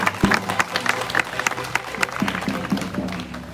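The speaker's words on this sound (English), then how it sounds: "Can everybody please give him a round of applause." Outdoor crowd at a peaceful protest claps in applause, scattered individual hand claps close by over a murmuring background.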